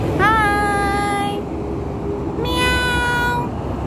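A cat on a beach gives two long, drawn-out meows, close and clear, separated by a short pause over a steady outdoor background.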